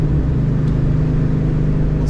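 A Ford Mustang Cobra engine heard from inside the car during power-shifting practice holds a loud, steady low drone for a couple of seconds with a throaty harmonic rumble.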